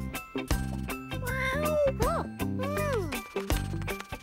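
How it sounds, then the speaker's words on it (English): Several meows from a cartoon ginger cat, some drawn out and sliding in pitch, with a light jingle and a child-like voice mixed in. "It's Ginger Cat."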